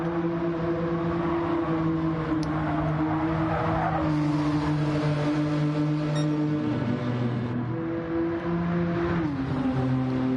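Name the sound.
race cars on Tokyo Expressway in video game Gran Turismo 7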